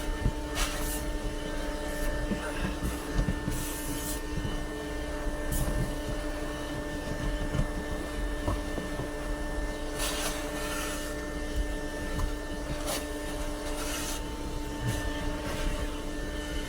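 A vacuum cleaner sucking up dust, a steady droning whine that runs unbroken throughout, with faint intermittent knocks and rustles over the top and no talk.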